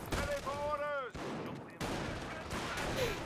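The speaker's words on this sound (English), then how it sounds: "Sniper peppering up that rifle squad." Sniper shots and rifle fire in the World War II strategy game Company of Heroes: several sharp cracks and bursts with short gaps between them, at moderate volume.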